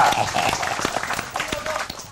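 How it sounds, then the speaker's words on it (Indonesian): Applause from a crowd, steady and moderately loud, with a voice speaking over the clapping. "Kita beri tepuk tangan yang meriah"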